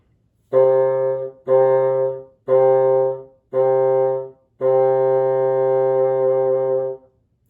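Five bassoon notes on the same low pitch, each cleanly tongued: four short detached ones, then a longer held note, played alone and close.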